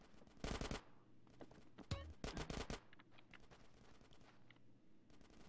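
Automatic gunfire erupts in rapid bursts during a suppressing-fire shootout in GTA San Andreas, loud and close at first, then thinner scattered shots and faint background voices continue.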